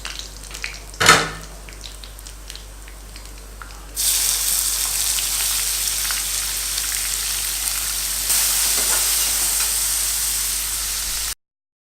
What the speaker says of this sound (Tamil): பூண்டு நல்லா ஒரு மாதிரி கோல்டன் ப்ரௌன் ஆன பிறகு ஆனியன் போட்டுருங்க.